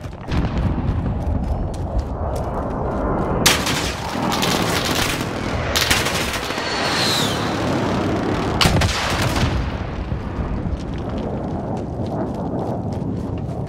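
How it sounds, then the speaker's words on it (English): Video game precision airstrike and gunfire: dense, continuous rumbling barrage with repeated sharp shots and heavy booms at steady loudness throughout, no voices. "Enemy precision airstrike."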